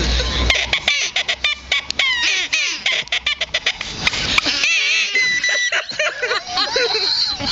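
A toy duck or duck call quacks and honks in a rapid, dense stream of raspy calls, loud and close, with a brief voice near the start.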